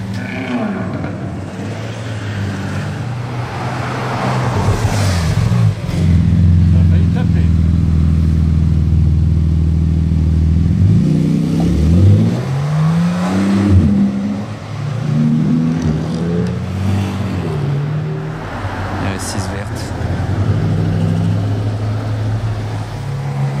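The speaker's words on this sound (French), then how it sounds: "Le chassé croisé des Ferrari à Monaco." Ferrari sports cars cross paths on the streets of Monaco, engines revving and rising in pitch as they accelerate past, loud and close, with people talking over the engine noise.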